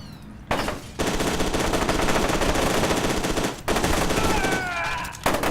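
Enemy automatic gunfire in the shooter game F.E.A.R. 2: Project Origin, loud sustained bursts of rapid shots with brief pauses between volleys and a few ricochet-like whines near the end.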